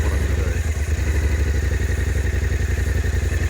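A T7 motorcycle engine revving while stuck on a hill, a steady rapid pulsing drone that holds loud and close throughout, with no voices over it.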